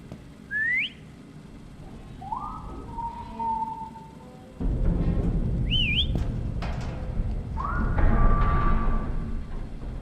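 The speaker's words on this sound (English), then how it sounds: "the statues sometimes whistle back" Statues in the horror game Lazaret answer with eerie rising whistles, several separate calls spread across the stretch, some sliding and warbling, with a dull rumbling ambience that thickens partway through.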